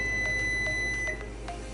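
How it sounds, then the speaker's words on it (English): A kitchen timer beeps in short repeated electronic pulses, steady and fairly close, over a constant low hum in a home kitchen during pastry baking. "Oops, my timer just went off"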